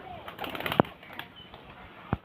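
Pigeons in a loft, soft cooing and low murmuring calls with a couple of sharp wing flaps or clatters, fairly faint and close, with a little background talk.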